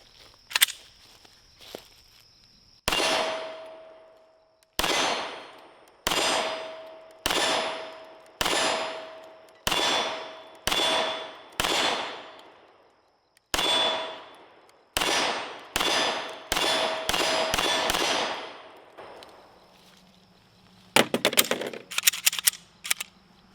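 A Smith & Wesson SD9 2.0 pistol fires about fifteen sharp shots outdoors, spaced roughly a second apart with a few quicker pairs, each crack ringing with a metallic tail before a short rattle of handling at the end.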